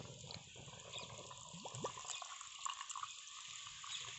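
Water pours steadily into a pan of egg curry, with a soft rushing, splashing sound, fairly faint over a constant background hiss, with a couple of brief higher squeaks.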